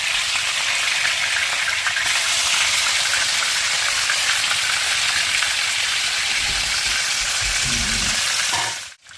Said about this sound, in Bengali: মাছগুলি মেখে ভেজে নেব।